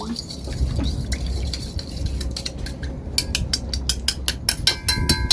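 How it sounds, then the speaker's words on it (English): Part A and part B of a two-part compound are stirred together in a container, a utensil scraping and clinking in quickening regular strokes, loud and close, with soft background noise. "I'm about to mix part A into part B after I mix up part B"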